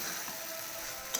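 Paneer and mixed vegetable masala sautéing in oil in a pan, a soft steady sizzle with faint stirring scrapes and a small clink near the end, close and fairly quiet with no talking.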